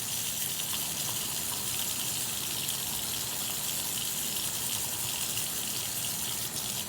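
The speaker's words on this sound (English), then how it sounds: "you just grab the brush, get it wet, and just real good, get under those nails." Running water from a tap gushes steadily while fingernails are scrubbed with a wet brush during handwashing. The flow hisses loud and constant, and any brushing is lost beneath it.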